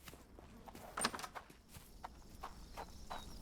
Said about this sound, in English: In the stables, there is a horse.